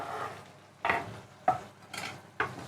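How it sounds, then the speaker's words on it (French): Chicken pieces for poulet basquaise fry in a pan, a soft steady sizzle broken by several sharp scraping stirs of a utensil against the pan. No one speaks. "les bruits de cuisson de viande, c'est plutôt agréable"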